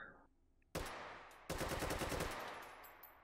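A gun fitted with a compensator fires in the VR shooter H3VR: one sharp loud shot, then a rapid burst of close, echoing automatic fire lasting nearly a second, followed by a fading tail.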